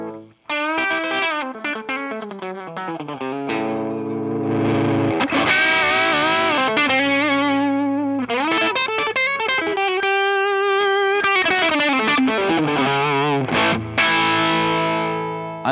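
A Gibson Les Paul Junior electric guitar played through heavy distortion with chorus and effects, loud sustained chords and single notes that swell in and out as the volume knob is swept from silent to full.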